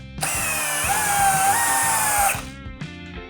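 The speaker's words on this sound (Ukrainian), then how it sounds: "Переходимо в режим турбо, друга швидкість." Procraft CD20B cordless drill driver running in turbo mode at second speed, a loud steady high whine lasting about two seconds, then winding down with short ratcheting bursts.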